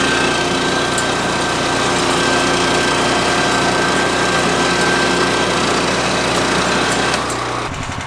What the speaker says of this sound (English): So I'm going to pull out the BCS and get this started.